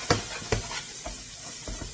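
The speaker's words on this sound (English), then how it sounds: "Frying them out, you know." Chicken breast fries in a pan with a steady close sizzle, and a few soft stirring or utensil taps come through over about two seconds.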